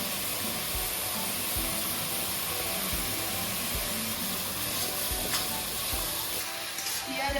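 Whole garam masala, cumin seeds and onion paste sizzle steadily in hot oil for a Bengali-style chole paneer, a dense, continuous frying hiss with occasional soft stirring scrapes and no voices.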